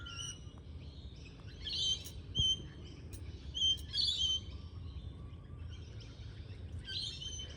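Birds and fledglings chirp outside a sewing room, with repeated high, faint tweets and short calls scattered over a quiet indoor hum.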